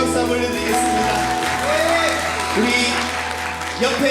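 A church congregation claps during a Sunday afternoon worship service, a brief burst of applause laid under music and a voice that carries on through it.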